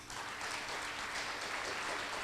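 Audience applause at a live concert, a dense, even burst of many hands clapping that fills the room and holds steady throughout.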